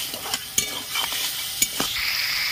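Spices with turmeric powder and salt sauté in a pan under a steady sizzle, while a spatula scrapes and taps the metal in sharp, irregular strokes.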